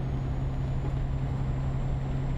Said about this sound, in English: Don't know if you can hear my engine surging